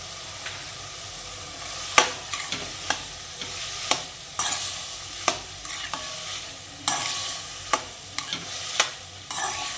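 Tomato and green chilli curry being stirred in a frying pan, with a soft continuous sizzle under a run of sharp spoon scrapes and clacks against the pan, roughly one or two per second, close and fairly quiet.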